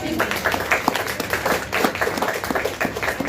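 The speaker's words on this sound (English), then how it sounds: "give a round of applause" A crowd claps at a bookshop book launch after a question-and-answer session, the claps close and uneven, with voices talking over them.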